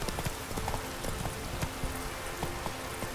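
Horse hooves clip-clopping in the video game The Witcher 3: Wild Hunt, a steady rhythmic series of hoof strikes at a trotting pace over a soft background hum.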